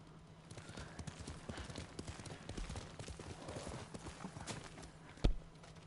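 Rapid, rhythmic horse hoofbeats trot steadily at moderate volume against a faint background in the video game Ghost of Tsushima, ending with one sharp, louder knock.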